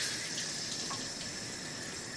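Tap water runs steadily into a glass indoors, a soft continuous splashing flow at moderate distance, with no talking.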